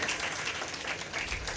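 A conference audience at a national cyber psychology event claps in one steady burst of applause, dense and continuous across the room with no speech over it.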